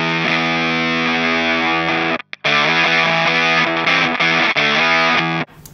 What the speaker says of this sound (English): we've got a Spore fuzz, which is kind of gated on its own